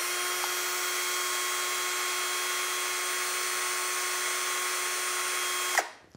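A cheap cordless drill runs steadily in first gear, rated at about 350 RPM, giving a close, constant motor whine that holds for several seconds before cutting off abruptly.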